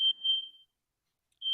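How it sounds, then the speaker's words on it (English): A smoke detector chirps high and piercing: two short beeps close together, a second of silence, then another beep starting, loud and alone with no talk. "And there goes my smoke detector."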